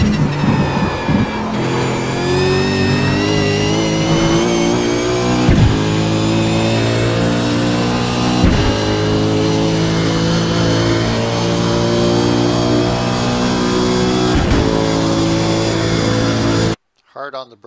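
A race car at Monza in a racing game drones at steady high revs, its harmonics climbing and falling through several gear shifts, with a commentator's voice running over the engine before a sudden cut to silence.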